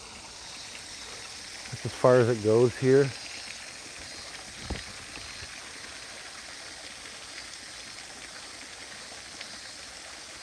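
A small waterfall in Japan spills steadily with a constant rushing wash, while someone talks briefly near the start and then falls quiet.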